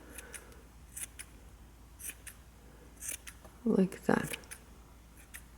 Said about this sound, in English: I'm going to go ahead and take my scissors and cut any of the extras that I have